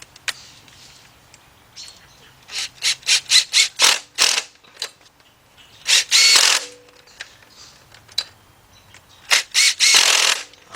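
Impact wrench tightening head bolts on a Volkswagen Beetle engine during a head gasket job: a run of short, loud rattling bursts in quick succession, then a pause and two longer bursts, with no talk.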